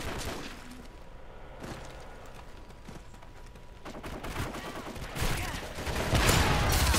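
Bursts of gunfire in a first-person shooter video game, dense and continuous with rapid crackling shots growing louder toward the end.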